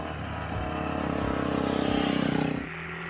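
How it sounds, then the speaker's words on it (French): An SWM Silver Vase scrambler motorcycle with a 440 engine revs up steadily, its throttle climbing for about two seconds before cutting off, loud and close with no talk. "La Silver Vase, c'est un scrambler qui est cher à la marque SWM avec un moteur 440"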